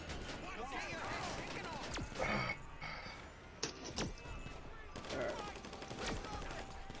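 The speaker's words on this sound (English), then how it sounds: "He's got a shotgun!" Several sharp shotgun blasts crack out in Grand Theft Auto Online gameplay, scattered over a busy game soundscape, while a player talks over the action.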